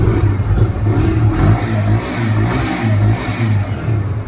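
A 2024 Bajaj Freedom 125cc motorcycle engine switched to petrol, revving loudly up and down in close, repeated throttle blips over a steady low idle, with no talk.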